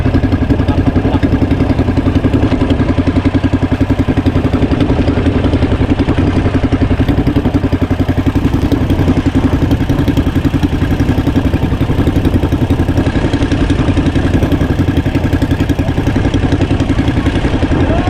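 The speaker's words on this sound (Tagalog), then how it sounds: "At naayos itong makina." A repaired motorcycle engine idles close by, a loud, steady, continuous rumble with a fine mechanical clatter running evenly throughout, no voices over it.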